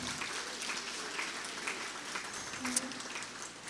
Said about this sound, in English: So please give a round of applause for our community sponsors.